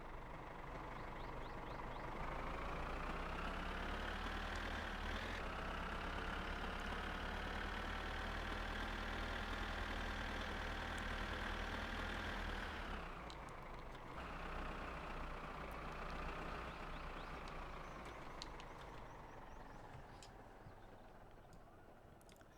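A tractor engine idling in the My Summer Car video game, a continuous low rumbling drone that holds steady with slight shifts in pitch and level, fading a little toward the end.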